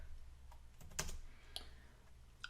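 Typing on a computer keyboard while entering a comment in ATLAS.ti 8 desktop software, a few scattered faint key clicks, quiet and close, with no talking.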